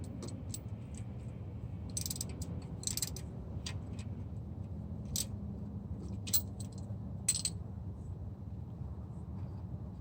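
Caliper bracket bolts loosened on the front brakes of a 2004–2015 Nissan Titan, with a rapid series of sharp ratchet clicks over a steady low hum of background noise.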